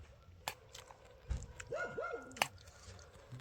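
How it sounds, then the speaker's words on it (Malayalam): A dog barks a few times at a distance, with a short yelping call in the middle, against a quiet night background. "ചുറ്റിലും നായ്ക്കളൊക്കെ നല്ല കൊരവരക്കുണ്ട്"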